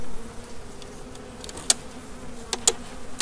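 Honeybees hum faintly near their hive in Chelmsford. A soft, low buzz runs throughout, with a few sharp ticks and near passes breaking through.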